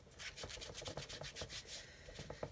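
Dried glue being rubbed off a stamping block, a quick series of soft scraping, rasping strokes in a brisk irregular rhythm, close and faint, with no talk.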